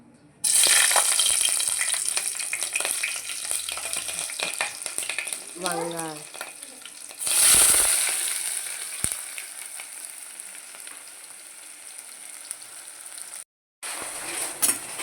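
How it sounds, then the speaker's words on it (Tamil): Green chilies drop into hot oil with a loud, bright sizzle that crackles steadily, swells again partway through as the pan is disturbed, then settles into a softer frying hiss. "எண்ணெய் ஹீட் ஆயிடுச்சு. இப்போ நம்ம பச்சை மிளகாய் 2 போட்டுக்கலாம்."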